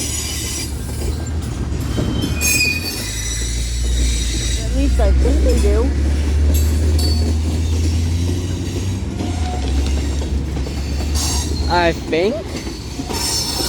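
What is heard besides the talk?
Union Pacific manifest freight train passing, wheels squealing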